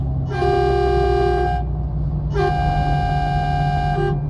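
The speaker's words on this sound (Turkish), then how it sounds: "Bu da havalı bir korna güzel olmuş." A MAN TGX truck's air horn in Euro Truck Simulator 2 sounds twice, loud and near, each long chord-like blast lasting over a second above a steady engine drone.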